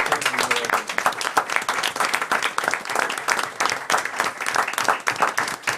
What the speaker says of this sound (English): we would be remiss if we didn't give you a round of applause